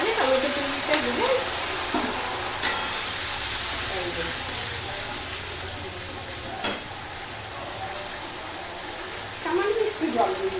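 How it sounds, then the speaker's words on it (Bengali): Masala paste of ginger and green chilli with tomato puree sizzles and sputters in a pan while being stirred, a steady frying hiss under intermittent talk and utensil clinks. "ওটা আমি মশলাটা কষাচ্ছি"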